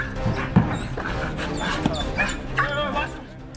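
A trained military working dog on a leash barks and yips in short bursts during special forces training, the barks close and sharp, mixed with someone shouting commands over it.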